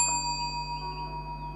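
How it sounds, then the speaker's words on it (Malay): A small press-top bell gives one bright ting that rings on as a clear, sustained metallic tone and fades slowly. It is close and alone. "Bila anda tekan loceng ni, anda dengar dia bunyi ting yang belakang tu."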